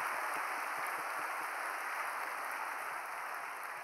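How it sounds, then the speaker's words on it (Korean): Church audience at an evening worship service for Christian soldiers gives steady applause of thanks, a dense, even wash of many hands clapping throughout at moderate distance, fairly faint, with no talking. "감사의 박수 한번 드리겠습니다"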